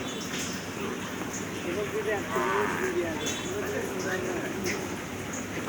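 A herd of water buffaloes, mostly cows with some young calves, stand in water and low repeatedly, drawn-out moos rising over one another amid steady outdoor background noise.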